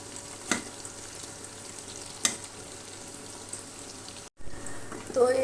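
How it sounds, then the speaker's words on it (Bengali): Beef spleen frying slowly over a low flame, giving a soft, steady sizzle with occasional sharp clicks as the pieces are turned. There is a brief silent gap near the end, then the frying returns slightly louder. "উল্টে পাল্টে এটা ভেজে নিতে হবে।"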